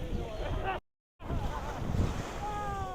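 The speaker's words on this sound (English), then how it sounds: "It is windy out here, guys." Strong wind blowing over the sea at Coney Island, a steady roaring rush against the microphone with surf beneath, briefly cut to silence before resuming, and a voice talking over it.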